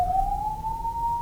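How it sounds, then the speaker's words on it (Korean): A pure sine test tone near 1000 Hz, played in a lecture on sound and ultrasound, glides slightly upward and then holds steady, clear but moderate in level over faint room noise. "1000Hz 잘 들리시죠?"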